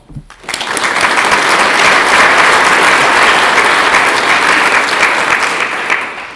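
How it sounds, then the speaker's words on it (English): Conference audience applauding a speaker at the λC 2016 event, a dense, steady burst of clapping that swells quickly and holds for several seconds before tapering off near the end. "So please give Ryan a round of applause"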